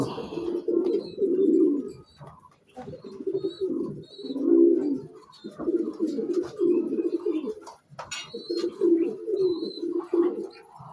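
A golden pigeon coos in repeated rolling bursts close by, about half a dozen phrases separated by short pauses, with occasional faint clicks and chirps in the background.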